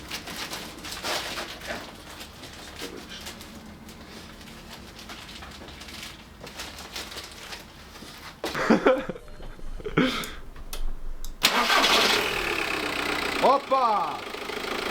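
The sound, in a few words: VW Golf 5 car engine starting after oil service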